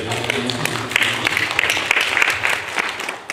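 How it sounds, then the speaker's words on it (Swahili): A church congregation claps for the teacher after a sermon, a dense run of scattered hand claps with voices speaking underneath. "Tumpigie mwalimu makofi tafadhali."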